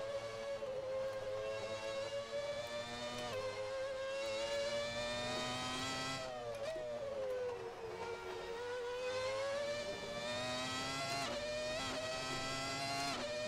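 A Seat Leon touring car engine in Assetto Corsa drones with a smooth, harmonic-rich tone, its pitch sliding up and down through gear changes and dipping twice under lift-off, sustained and fairly quiet throughout.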